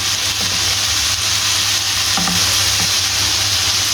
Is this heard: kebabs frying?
yes